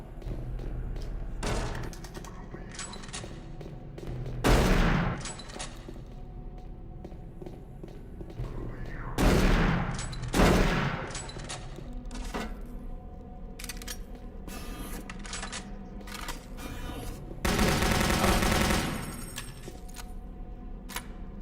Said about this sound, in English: I got a fucking shotgun, dude.